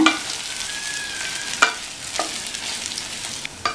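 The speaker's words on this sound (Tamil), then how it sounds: "அவலை சேர்த்ததுக்கப்புறம் நல்லா மிக்ஸ் பண்ணி விட்டுருங்க" Poha upma being stirred in a pan, with a steady frying sizzle under a few sharp scraping strokes of the spoon against the pan.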